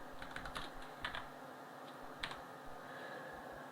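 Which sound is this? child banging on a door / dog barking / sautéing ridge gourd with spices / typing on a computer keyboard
typing on a computer keyboard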